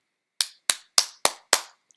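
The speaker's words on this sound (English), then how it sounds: "That's me clapping if you didn't know that" Hands clap five times at a steady, fairly quick rhythm, each sharp crack close and crisp, followed by a couple of faint ticks.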